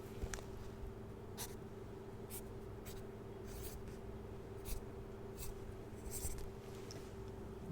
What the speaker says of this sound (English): now, what am I writing now?